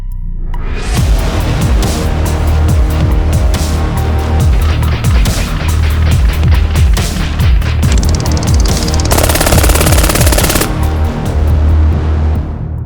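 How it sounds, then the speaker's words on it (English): A Brügger & Thomet submachine gun fires 9mm fully automatic from a 30-round magazine at close quarters into soft body armor, loud rapid bursts of gunfire that run almost continuously and echo heavily. "fully automatic fire from a Broger and Tomei submachine gun."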